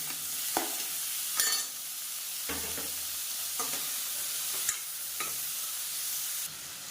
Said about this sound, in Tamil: இப்போ தக்காளி ஓரளவுக்கு நல்லா வதக்கியாச்சு